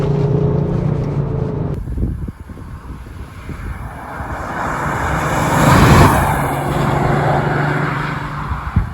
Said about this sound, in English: Tyre noise, by the way, worth mentioning